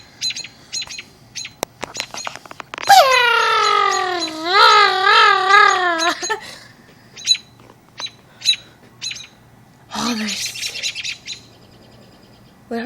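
Birds chirp and squawk close by in a long, loud run of rising, wavering calls, then a few scattered tweets and a harsher squawk burst, with no talking over them.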